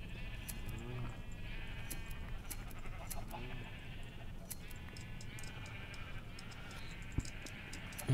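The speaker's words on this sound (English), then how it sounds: "Okay, more sheep, more wool," Minecraft sheep let out a string of soft, wavering bleats, a few overlapping, over a low steady hum, with a faint tick partway through and a brief thump at the very end.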